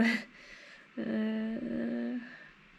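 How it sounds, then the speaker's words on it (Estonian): A dog gives a long, drawn-out howl in two sustained tonal stretches, fairly close and clear against a quiet background, with a shorter cry at the start. "Koer vist ulub."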